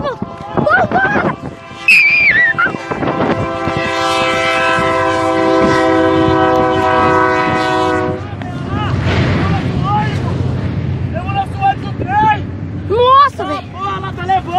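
A train blasts its horn loudly and steadily as it approaches a level crossing where a school bus sits, with rumbling rail noise and excited people shouting nearby.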